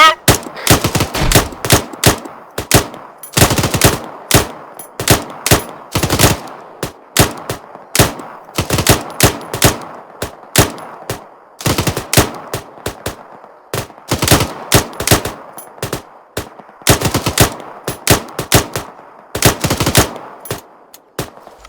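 Arma 3 section rifles and machine guns fire rapidly in an ambush, a loud, sustained barrage of close, sharp cracks in irregular bursts lasting over twenty seconds.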